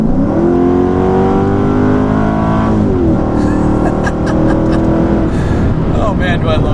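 Modified Mercedes-Benz E55 AMG driving home from a dyno, its engine droning loud and close with a rising pull and gear change, steady in-cabin roar throughout with a voice talking over it.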